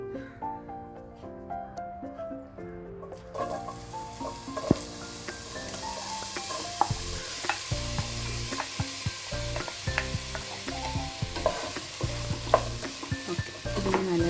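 Chopped pineapple for payasam sizzles in a pan while a spoon stirs it, the frying hiss rising after a short lead-in and continuing with frequent clinks and scrapes, close-up, over soft background music.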